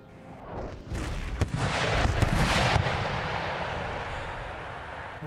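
Booming 12-pounder cannon round shot bombardment in Empire: Total War, a dense burst of heavy overlapping blasts and rumbling impacts that swells for a couple of seconds, then fades into a continuous low battlefield roar.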